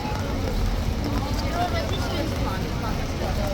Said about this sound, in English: the gusts of wind blow the rain in your face and in your eyes